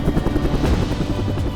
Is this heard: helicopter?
yes